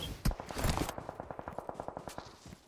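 Rapid automatic gunfire in PUBG Mobile, a burst of sharp regular shots repeating steadily at close range, with louder overlapping blasts at the start.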